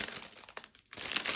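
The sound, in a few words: crinkly plastic packaging being handled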